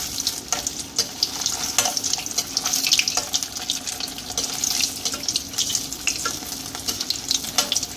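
Paneer pieces fry in hot white oil over a high flame, a continuous crackling sizzle with occasional sharper pops and stirring scrapes, close and fairly loud with no talking.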